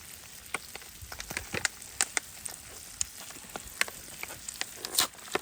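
Beans sizzling and frying in a pan outdoors by a chilly lakeside, with a steady crackle broken by sharp pops and spatters, close up and with no talking.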